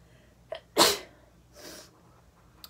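One sharp human sneeze bursts out close by, preceded by a quick intake of breath and followed by a softer exhale, in an otherwise quiet indoor room.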